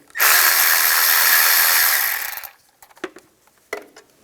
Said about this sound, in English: I'm just going to use a 8mm socket. Loosen up the worm clamp.